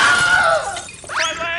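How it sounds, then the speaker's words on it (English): Glass shattering while being moved on a theme park ride, a short bright crash and tinkle with a rising squeal, loud and close, lasting barely over a second. "You would think that they'd be more careful with transporting glass."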